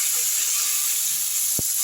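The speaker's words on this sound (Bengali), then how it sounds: "ঢাকাটা খুলে আলুগুলো বেশ লাল লাল হয়ে ভাজা হচ্ছে।" Potatoes frying in a pan just after the lid comes off, a steady loud sizzling hiss that fills the whole moment, with one brief soft knock near the end.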